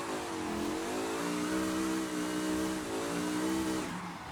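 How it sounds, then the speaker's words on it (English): A video game racing car engine with a racing exhaust revs hard and continuously, its pitch rising and falling as the driver works the throttle, with a raspy exhaust note. "This engine is nice to listen to as well"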